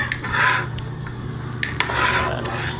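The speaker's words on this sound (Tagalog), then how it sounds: "Hinalo-halo para ma-mix ang panimpla sa ating munggo" Spoon scraping and clinking against a pot while seasoning of salt and black pepper is stirred into cooking mung beans, a steady low simmer underneath with a few sharp metal taps.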